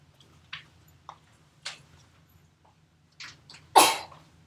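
One loud sneeze in a classroom stands out near the end, preceded by several softer short bursts of breath or sniffs over an otherwise quiet room.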